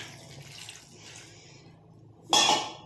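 A burst of water poured into a pot for homemade hair dye splashes loud and close near the end, after a stretch of quiet kitchen background.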